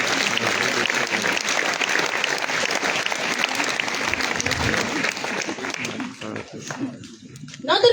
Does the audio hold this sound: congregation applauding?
yes